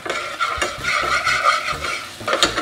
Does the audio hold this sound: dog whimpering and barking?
no